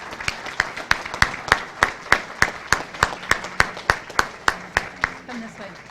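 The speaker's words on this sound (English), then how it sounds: "Ladies and gentlemen, please join me in applauding the next generation of allied health and nursing professionals." Sharp, evenly spaced claps ring out at a steady rhythm, about three per second, at a college signing day ceremony, fairly close and distinct over low background murmur.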